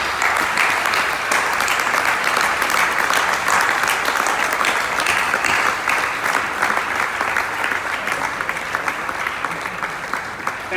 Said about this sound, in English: Please give a well-deserved round of applause to our Charge d'Affaires, Mr. Arvind.